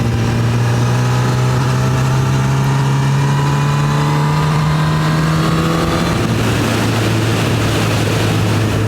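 A Honda CB1000R motorcycle engine pulls steadily under load in fourth gear uphill, its droning pitch slowly rising as it accelerates, loud and continuous with wind rush throughout.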